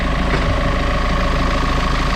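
A boat engine idles in gear after the gear shift on the engine is engaged, giving a loud, steady low rumble with an even pulsing throb and no voices over it.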